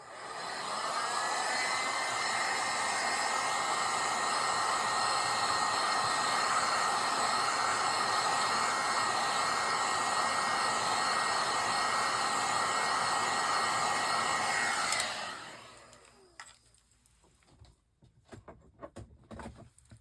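A hair dryer blows steadily on stencil paint for about fifteen seconds, a loud continuous whir with a faint pitch glide at start-up, then cuts off abruptly, leaving quiet handling noises.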